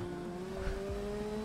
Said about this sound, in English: When I'm on the brakes, the motorbike sounds like a horse.